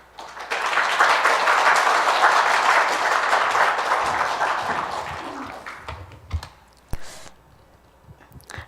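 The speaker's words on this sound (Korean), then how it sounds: "박수로 환영해 주셔서 감사합니다." A church congregation applauds loudly in a steady, dense burst of clapping to welcome a preacher before a first sermon, then the clapping tapers off into a few scattered taps and shuffles.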